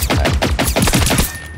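Rapid automatic gunfire from the video game Generation Zero, a steady burst of close, loud shots in quick rhythm lasting the whole moment, with no talking.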